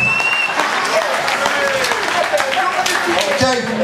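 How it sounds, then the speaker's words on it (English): A crowd at a talent show claps and applauds steadily for several seconds, a dense wash of hand claps with a few voices and cheers mixed in. "Give him a round of applause"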